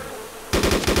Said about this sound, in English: I hear more shooting.